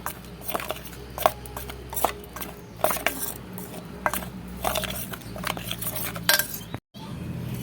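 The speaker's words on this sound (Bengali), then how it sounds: "এবার এইগুলো সব উপকরণগুলো একসঙ্গে এইভাবে মিশিয়ে নেব" Chopped bottle gourd peel being mixed by hand with salt and turmeric in a bowl: repeated light clinks and scraping taps in an irregular rhythm, close and fairly quiet.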